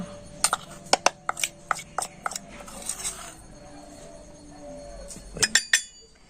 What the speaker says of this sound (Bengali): তো তিন চামচ কর্নফ্লাওয়ার দিয়ে দিলাম